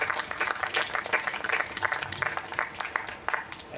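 An audience at a pet memorial program applauds, a dense patter of many hands clapping steadily for several seconds with faint voices mixed in.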